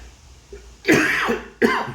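Two harsh coughs close to the mic, a longer throaty burst followed by a shorter sharp one, with quiet room noise between.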